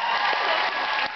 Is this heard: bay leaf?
no